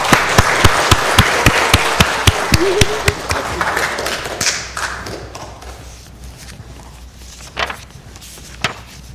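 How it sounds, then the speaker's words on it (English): A church congregation claps together, loud and steady for several seconds at the start, then the applause thins and fades into scattered faint taps and room noise. "this is a perfectly appropriate time to clap and give thanks for the work that God has achieved"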